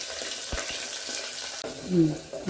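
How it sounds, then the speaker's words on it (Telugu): Onions and green chilies frying in a pan for a ridge gourd and chana dal curry, a steady close sizzle with a few soft knocks and a brief louder burst near the end, no voices. "కొంచెం వేగాయి వేగినాక ఉల్లిపాయ కలిపేస్తున్నాను"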